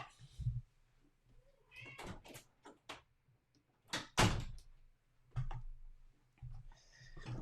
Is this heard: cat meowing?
yes